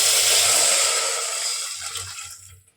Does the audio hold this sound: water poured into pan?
yes